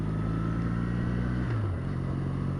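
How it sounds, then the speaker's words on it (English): A 2015 Triumph Bonneville T214 Limited Edition twin-cylinder engine drones steadily while cruising in traffic, a smooth low hum whose pitch dips partway through as the rider shifts or eases off. "It's a really smooth engine, I have to say."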